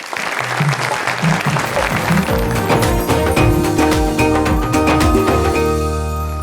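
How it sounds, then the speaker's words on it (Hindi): An audience in a television studio applauds loudly and steadily during an Eid-ul-Adha special show, with sustained musical tones playing underneath the clapping. "जनाब जोरदार तालियां बजाएं अहमद भाई के लिए।"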